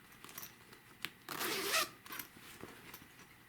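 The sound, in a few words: zipper on a zippered wedge bag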